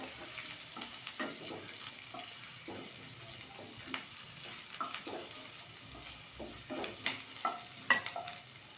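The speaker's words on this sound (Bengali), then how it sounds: "একই তেলে আর খানিকটা তেল দিয়ে দেব, দিয়ে একটু আদা কুচি আর 1 চামচ জিরে ফোড়নে দিয়ে দেবো।" Chopped ginger and cumin seeds sizzle in hot oil, a soft steady crackle close by with occasional sharper pops and spoon stirring, no voices.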